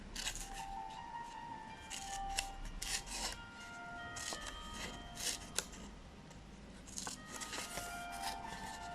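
Scissors snipping origami paper at regular intervals to cut a serrated edge, close and fairly quiet, with repeated crisp cuts and light paper rustling and no talking.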